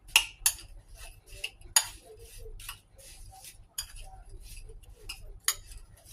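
A spoon stirs apple and brown sugar in a bowl, making a few sharp clinks against the sides and soft scraping in between, close and quiet, with a person talking alongside.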